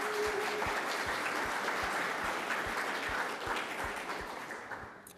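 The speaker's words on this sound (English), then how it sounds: "I say we start this thing out with a nice round of applause for those who couldn't be here" A room of attendees at a Safe Streets meeting gives a sustained round of applause, dense steady clapping that fills the space and slowly fades toward the end, with no talk over it.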